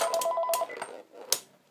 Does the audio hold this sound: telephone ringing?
yes